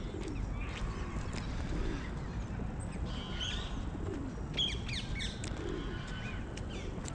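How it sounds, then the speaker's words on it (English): Pigeons coo and small birds chirp in a London park near Embankment, low repeated cooing under scattered bright tweets against a steady outdoor background murmur. "There's a lot of birds and pigeons here"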